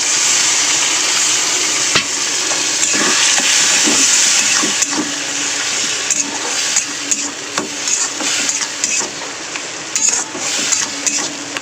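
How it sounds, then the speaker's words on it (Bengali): Spice paste of chilli powder and turmeric fries with a splash of water in a pan, giving a loud, continuous close sizzle with scattered clinks of a stirring utensil. "একটু জল দিয়ে মশলাটা কষাবো।"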